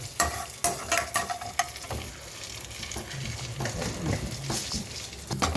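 Urad dal sizzling in hot oil in a pan for beetroot palya, with close scraping stirs and clattery spoon strokes over a steady frying hiss.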